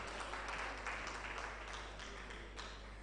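Soft, distant clapping from an audience at a university tenth-anniversary event, a low steady patter under a constant hum.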